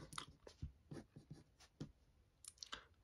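Coloured pencil strokes scratch across paper in short, irregular bursts, close and fairly quiet, with brief pauses between strokes.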